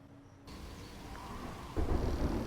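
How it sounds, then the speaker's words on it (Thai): Rain and rumbling thunder in The Walking Dead: Michonne video game, a steady wash of rain that swells louder near the end, with a low rolling boom building underneath. "ฝนตกแล้วนี่"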